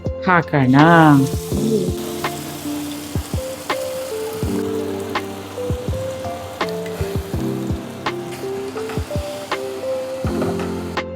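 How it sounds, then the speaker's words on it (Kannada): Blended papaya frying in hot ghee for halwa gives a steady sizzle, with repeated sharp clinks of stirring against the pan throughout and a brief tonal sound at the start. "ಇವಾಗ ತುಪ್ಪ ಕಾದಿದೆ. ಮಿಕ್ಸಿ ಮಾಡ್ಕೊಂಡಿರೋ ಪಪ್ಪಾಯ ಹಾಕೋಣ"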